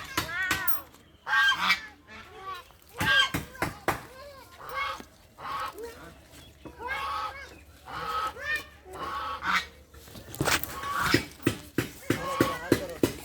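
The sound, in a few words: ducks honking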